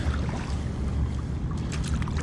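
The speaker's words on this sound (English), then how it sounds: "Let's just paddle like a kayak first." Paddling an NRS Heron 11 inflatable fishing SUP like a kayak produces soft splashing and water swishes from the paddle strokes, close and steady over a low rumble of wind noise.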